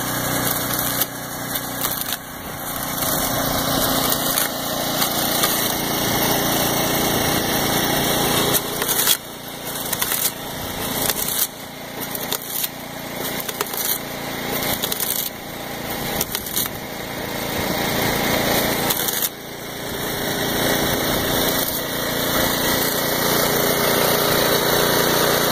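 A wood chunking machine driven by a derated gasifier-powered engine runs steadily and loudly throughout, with a constant high-pitched engine whine and brief dips as the wood is cut.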